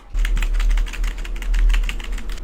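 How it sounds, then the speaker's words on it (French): Keys being tapped on a computer keyboard to test them, a steady run of quick, close clicks lasting a couple of seconds with no talking. "Je teste les touches parce qu'on sait jamais si mon clavier est foutu"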